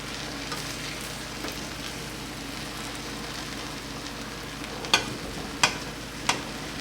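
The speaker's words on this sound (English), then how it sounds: "you want to stir the rice away from the bottom" Nearly cooked rice for Cuban arroz con pollo is stirred up from the bottom of a pot, giving a steady soft sizzle with scraping and three sharp knocks near the end.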